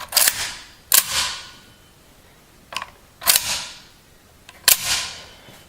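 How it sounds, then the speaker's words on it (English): A G&G M14 EBR airsoft gun's metal bolt is racked repeatedly, five sharp close metallic clacks in pairs and singles, each snapping loud and ringing briefly before fading. "These M14s, airsoft wise, are known to have a very nice sounding metal bolt, and this one is no different."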